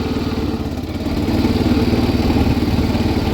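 A 1979 John Deere 216 lawn tractor driving in fourth gear, a steady loud chugging engine with a rhythmic clatter that swells slightly partway through.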